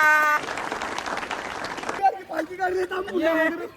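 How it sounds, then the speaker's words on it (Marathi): A crowd at a local gathering breaks into loud applause for a couple of seconds, then voices take over as people talk. "टाळ्या टाळ्या"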